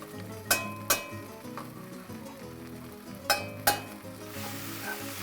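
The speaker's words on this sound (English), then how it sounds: "Give that a good stir." Minced garlic and tomato paste sizzling in a pan for a Portuguese-style sea bass dish. A spoon stirs and knocks against the pan, four distinct clacks in two pairs over a steady fry, and nobody speaks.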